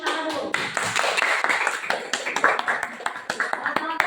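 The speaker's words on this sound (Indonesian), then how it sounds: "Oh, kelompok 1, kasih tepuk tangan dulu." Classroom students clapping for a presenting group, sharp uneven claps close by, mixed with voices talking over them.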